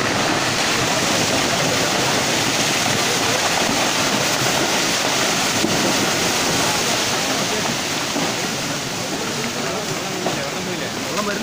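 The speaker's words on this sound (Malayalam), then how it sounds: "വെള്ളം വരുന്നേ ഉള്ളൂ. ഇതാ മേലെ വരുന്നേ ഉള്ളൂ." Rushing floodwater roaring steadily and loudly from start to end, a dense broadband wash with no breaks, and voices partly lost beneath it.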